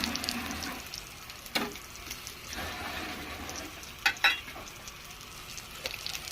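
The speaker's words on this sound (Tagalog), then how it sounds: "Pinirito ko na yung balon-balunan na yan. Sama sa pagprito yung luya." Chicken gizzards and ginger frying in oil in a pan, a low steady sizzle with a few sharp crackles and clinks of stirring scattered through, no one speaking.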